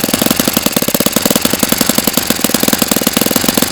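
Saito FA-45 MkII model four-stroke engine on its first run, fitted with an old-style carburetor without a throttle stop screw; a loud, steady, rapid chattering exhaust pulse continues throughout with no voices.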